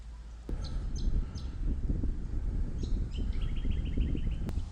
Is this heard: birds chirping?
yes